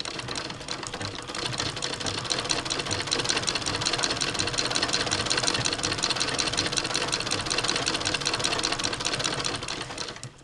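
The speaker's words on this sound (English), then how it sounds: "this machine has no problem at all sewing through this fabric" An 1891 White treadle sewing machine stitches through heavy denim in a fast, steady mechanical clatter, close and continuous for the whole stretch.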